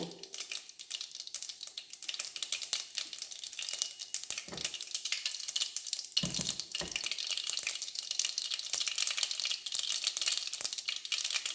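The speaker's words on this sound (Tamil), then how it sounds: "பாருங்க, கடுகு பொரியுது." Mustard seeds pop and crackle in hot oil, a dense continuous sizzle with sharp spattering bursts.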